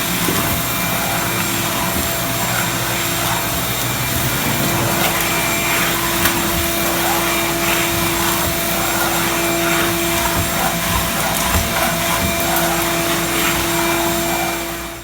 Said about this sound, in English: All right, I got it all dry vacked up now.